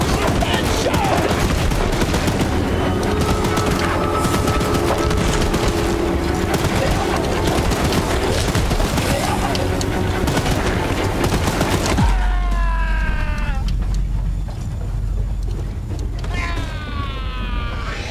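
A mounted gun in the Choo-Choo Charles game blasts continuously at the monster train Charles, loud sustained fire with mechanical rattling, then stopping abruptly as creaking, whining metallic mechanism sounds take over.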